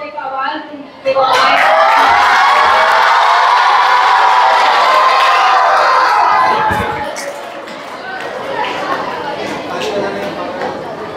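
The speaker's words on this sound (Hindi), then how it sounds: "तो चिल्ला रहे हैं।" A crowd of children shouts and cheers loudly at a school gathering for Savitribai Phule's birth anniversary, a sustained roar that swells after a sharp start, then fades into chatter and scattered claps.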